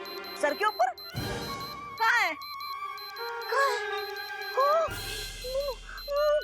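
A warning device on a children's fantasy TV show rings above a boy's head with bright, repeating electronic beeps and chirps, sounding through and between a child's and an adult's talk.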